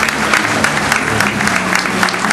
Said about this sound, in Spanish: Para todos ellos también el aplauso a ustedes